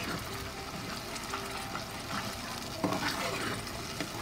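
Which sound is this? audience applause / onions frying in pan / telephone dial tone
onions frying in pan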